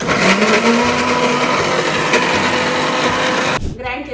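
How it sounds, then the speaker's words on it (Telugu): A mixer grinder pureeing fried tomatoes for curry, a loud steady motor whir running continuously and then abruptly cutting off near the end. "ఈ టమాటో ఇవన్నీ మనం వేయించాం కదా, దీన్ని గ్రైండ్ చేసుకుందాం క్యూరీ కోసం"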